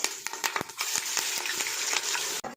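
Whole spices such as cinnamon, cardamom and cloves sizzling and crackling in hot oil for chicken biryani, with quick pops and stirring scrapes, close and fairly quiet, then stopping abruptly.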